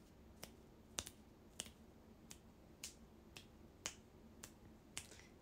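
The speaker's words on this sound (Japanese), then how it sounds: "最近指パッチンの練習してる" Fingers snap eight or so times at uneven intervals, each a sharp, close, quiet crack against a faint background hum, with no talking.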